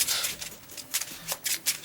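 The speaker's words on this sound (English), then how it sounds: "Shuffle real quick." Trading cards from a Pokémon TCG deck being shuffled in quick bursts of crisp riffling, close and fairly quiet, with several short rustling pulses and no talking.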